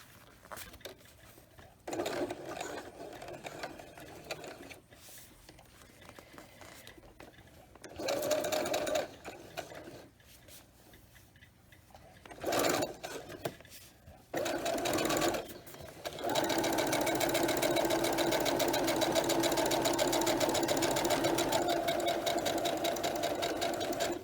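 A sewing machine runs a zigzag stitch through a vinyl zipper pouch: a few short whirring bursts with pauses between, then a long, even run of stitching to the end, fairly close and without talk.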